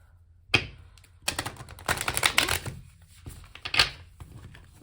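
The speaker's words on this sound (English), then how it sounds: "Was not my best shuffle there." Oracle cards being shuffled by hand, giving several short bursts of crisp riffling and flapping with pauses between, close and fairly loud with no talk.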